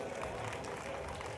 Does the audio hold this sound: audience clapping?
yes